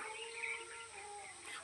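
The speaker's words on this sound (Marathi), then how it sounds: "पक्ष्यांचा पण आवाज येतो आजूबाजूला" Birds call faintly around a quiet temple of Shri Brahman Dev at Nerkewadi, Rajapur, in the Konkan, giving thin, drawn-out tones over a hushed outdoor backdrop with no talking.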